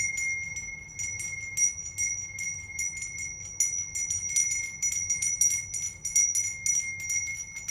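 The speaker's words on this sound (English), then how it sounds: "This is a handmade bell" A handmade bell rung continuously and loudly, its bright sustained pitch overlaid by rapid, irregular jangling strikes for several seconds, with no voices.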